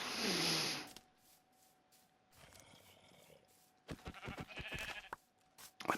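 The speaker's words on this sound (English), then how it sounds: "Let me find another sheep." Sheep bleat in a video game: a loud burst at the start, then a cluster of rough, wavering bleats after a quieter stretch, with a final bleat at the end.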